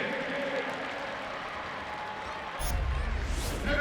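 A crowd at a Michigan State spring football practice cheers and applauds after a touchdown, a broad, steady roar heard from a distance that swells louder toward the end.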